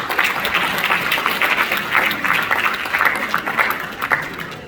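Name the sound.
audience round of applause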